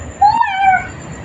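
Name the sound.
child imitating a peacock call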